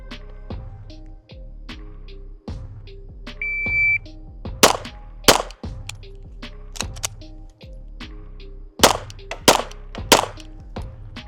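Five sharp pistol shots fired rapidly at a 15-yard target, comparing ported and non-ported handguns, crack out loud and close in an uneven quick string over a few seconds, with faint electronic beeps between them.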